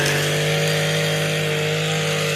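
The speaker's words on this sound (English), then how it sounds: "you can actually hear the blade and engine RPMs" An Echo SRM 225 weed eater runs steadily at high RPM, its small two-stroke engine and spinning blade giving a continuous buzzing whine that holds level and close throughout.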